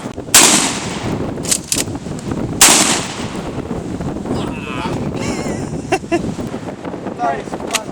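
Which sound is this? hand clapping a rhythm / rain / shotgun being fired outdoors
shotgun being fired outdoors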